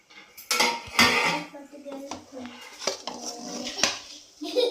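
Steel utensils and dishes clatter and clink while being washed by hand in a home kitchen, with irregular knocks, scrapes and rattles, some close and sharp, along with running water and occasional faint voices.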